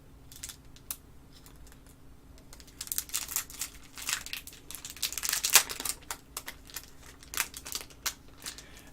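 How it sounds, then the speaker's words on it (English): Sticky plastic sleeves holding aircraft cards for the Blood Red Skies miniatures wargame are peeled open close up, giving irregular crinkling rustles and sharp tearing snaps, quiet at first and then busier. "They're in one of those little sticky sleeves that you can just peel open"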